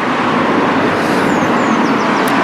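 Cars pass close by on a road, making a loud, continuous broadband roar of tire and engine noise with no pauses.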